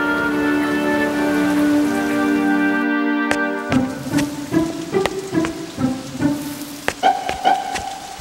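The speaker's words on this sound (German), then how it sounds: "Es regnete und regnete, als wollte es niemals wieder aufhören." Steady rain falls through a Noah's-flood Bible story, a soft patter that runs throughout beneath sustained musical tones, with scattered sharper drops later on.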